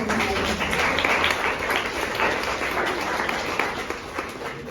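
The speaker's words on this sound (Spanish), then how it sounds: "Les pido un aplauso" An audience at an academic talk on childhood and youth gives applause for an invited doctor, a dense, even clapping that fills the room and gradually eases off.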